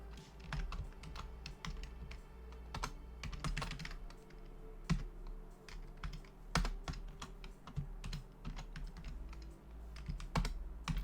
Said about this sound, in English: we're just working our way along the keyboard here